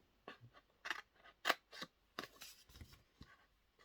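Scissors cutting through a cardboard box along its long side, with several separate crisp snips spaced irregularly, close and quiet, and no talking.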